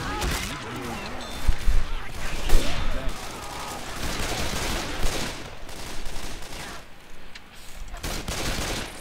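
Rapid volleys of gunfire from Left 4 Dead 2, dense bursts and single shots crackling continuously over game ambience, with players talking over the action.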